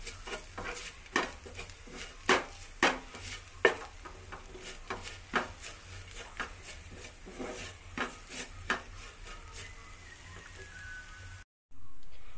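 Masala for cauliflower masala is sautéed in a pan, with a spatula scraping in steady repeated strokes over a light sizzle, close up, ending in a sudden break and a burst of noise.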